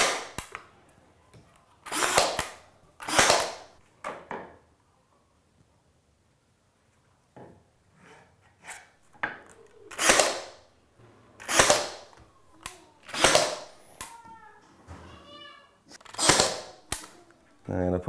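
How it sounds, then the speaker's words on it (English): A pin gun fires brad nails into pine trim around a pocket door frame, a series of sharp, close snapping shots in irregular bursts with short quiet gaps between them. "I'm just using a pin gun."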